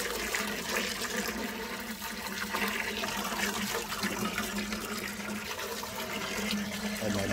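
Muddy water sloshing and swirling inside the tank of a TITAN wet and dry vacuum, a steady close liquid churn with trickling, continuous and fairly quiet with no talk.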